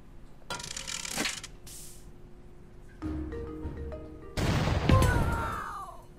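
Cannon fire in a video game sounds in a few sharp bursts, with a crackling blast, a brief metallic ring and a final louder boom, against a steady low background hum and no speech.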